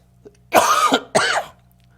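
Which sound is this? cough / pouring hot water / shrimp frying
cough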